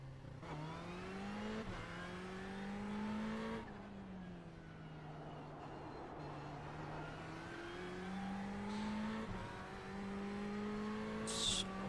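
GTE race car in a racing video game, its engine revving up through gears in repeated rising sweeps with brief shift drops, loud and close with occasional tire squeal.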